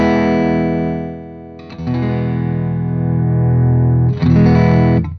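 Electric guitar through an H&K Spirit Nano amp pushed to more gain so the tone breaks up, loud sustained distorted chords strummed several times, each ringing out, with no talking.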